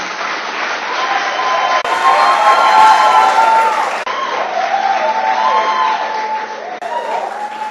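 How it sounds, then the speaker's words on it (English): University audience applauding and cheering for Justice Crabb, a dense sustained wave of clapping with whoops and shouts, loud and steady throughout, with a voice briefly audible amid the crowd. "And please give him a healthy applause."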